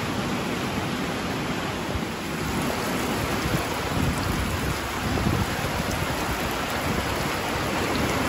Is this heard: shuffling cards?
no